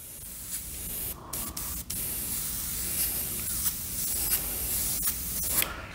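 Airbrush spraying paint that is too thick, with a steady broadband hiss broken by brief sputtering gaps and small pops as the paint feeds unevenly; close and continuous.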